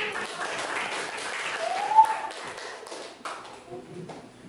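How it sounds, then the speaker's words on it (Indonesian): A classroom group gets a round of applause, soft steady clapping from many hands lasting several seconds, fairly faint and diffuse with a slight swell midway. "tepuk tangan untuk kelompok"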